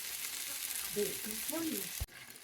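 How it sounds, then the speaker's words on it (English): Steady broadband hiss of pork frying in a pan, with a few faint tonal clatters partway through and a brief knock near the end. "I'm gonna let it sizzle here for another 10-15 minutes and then we're gonna add the wine."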